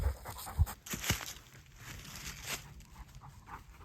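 Labrador retrievers hunting for shed antlers outdoors, close faint panting and sniffing with scattered footsteps and rustling, a couple of soft thumps near the start.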